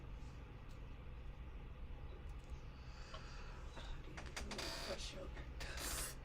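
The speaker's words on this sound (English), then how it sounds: "That's the Vitamix." A Vitamix blender runs in a room, its grinding, rattling roar rising in the latter half over a steady low hum.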